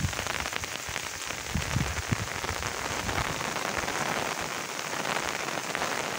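Heavy rain pounds down hard and steadily during a downpour in Odisha, a dense, loud hiss of drops striking surfaces close by, with no voices.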